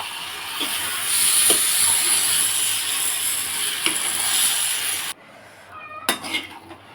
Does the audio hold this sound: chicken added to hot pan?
yes